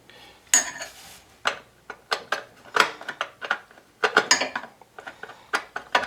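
A worn flathead screwdriver works screws out of a Coleman generator, giving close, irregular metallic scrapes and clinks in short bursts with pauses, no talk.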